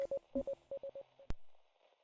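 A quiet, clean tone keys out Morse code in short dots and a few longer dashes, then stops with a sharp click and a fading rumble.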